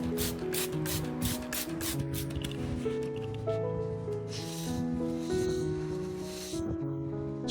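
A spray bottle misting an orchid fires a quick series of sharp misting hisses, then a few more spaced bursts, close by over a steady background of soft music.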